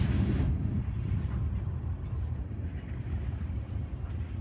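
A BNSF train engine at night gives a steady low rumble and hum that holds, loud and unbroken, for the whole stretch with no voices over it.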